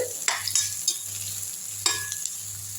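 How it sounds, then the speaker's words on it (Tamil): Grated radish is sautéed in a pan with a steady, close sizzle. A spoon scrapes and stirs against the pan in a few distinct strokes. "நல்லா வதக்கி விட்டுடலாம்"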